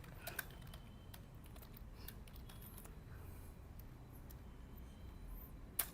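Someone types a C program on a computer keyboard, producing faint, sparse keystroke taps scattered across a quiet room with soft background hiss and no voices.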